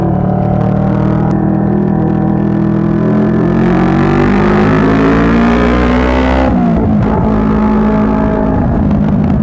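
CFMOTO NK400 motorcycle accelerating on an expressway, its engine droning loud and steady with the pitch slowly climbing, then a sudden drop as the rider shifts, over constant wind rush.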